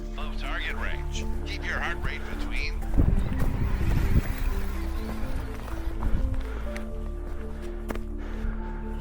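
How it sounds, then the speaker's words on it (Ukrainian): Wind gusting on a mountain summit at night during light rain, a steady broadband rush with a louder swell midway, with a person talking over it early on. "Підіймається вітер."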